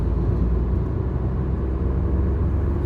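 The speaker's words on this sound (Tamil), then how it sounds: "அந்த டர்போ ஸ்பூல் அப் ஆன உடனே நமக்கு பவர் வந்து இமீடியட்டாக வருது." Hyundai i20 N Line with a manual gearbox and turbocharged engine accelerating from around 40, a steady low engine rumble with road and wind noise heard from inside the cabin, with no talk.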